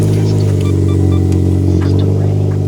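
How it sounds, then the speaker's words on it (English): A Chevy Sonic engine idles steadily close by after starting, a loud continuous low rumble with a slight rise in revs partway through and no talk over it. "Go ahead, start the car."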